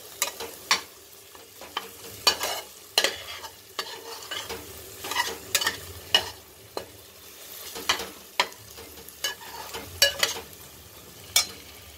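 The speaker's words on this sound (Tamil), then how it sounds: "இதை வதக்கிடலாம்." A spoon stirs chopped onion and masala sautéing in oil in a pan for egg pasta, with repeated close scraping strokes in an irregular rhythm over a soft, steady sizzle.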